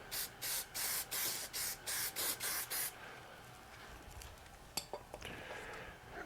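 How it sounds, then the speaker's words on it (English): Hairspray is sprayed onto a motorcycle grip on a 2020 BMW K1600 GT in about ten quick, rhythmic hissing bursts close to the mic, then a few soft rubbing and handling sounds follow. "just good old-fashioned hairspray works really well"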